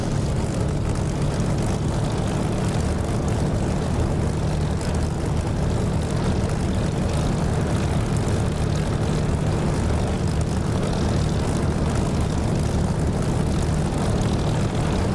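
Aircraft taxiing in the DCS flight simulator game, a continuous loud engine drone with dense low rumble and propeller hum, steady and unbroken with no talking.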